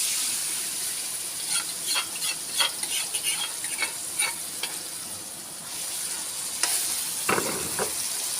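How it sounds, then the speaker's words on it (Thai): Pounded eggplant for a Shan-style eggplant dish stirred in a pot, with a steady sizzle under repeated scraping and clinking strokes of a utensil, close and fairly loud, no talking. "ลงหม้อแล้วก็ โคเลโคเลให้เข้ากันนะครับ"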